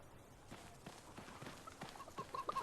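Chickens in the Xbox 360 game Fable 3 cluck faintly in a few soft, scattered bursts against a quiet background, growing slightly busier toward the end.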